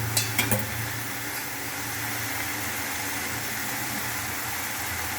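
Squid sautéed and stirred in a pan for a fish gravy: a few sharp utensil clinks at the start, then a steady, close sizzle that continues on its own.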